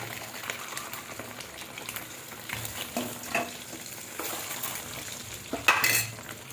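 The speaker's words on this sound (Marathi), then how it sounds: "आपल्याला हळदीमध्ये अंडी परतून घ्यायचे आहेत, म्हणजे फ्राय करून घ्यायचे आहेत." Eggs fry in oil with turmeric in a pan, giving a soft, steady sizzle broken by occasional scrapes and clinks as they are stirred, with a sharper spatter near the end.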